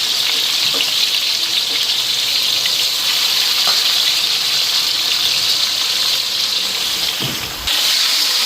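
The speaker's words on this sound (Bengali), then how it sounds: "আগে লাল কইরা ভাইজা নেবো, তো হলুদ লবণ মাইখা এখন ভাইজা নেবো আগে" Turmeric- and salt-coated chicken pieces fry in hot oil in a wok, a loud continuous sizzle with occasional crackles and pops, no voices.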